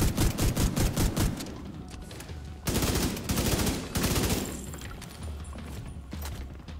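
A shotgun fires in The Division 2, with loud blasts in quick, rapid-fire bursts and short pauses between volleys, all close and forceful.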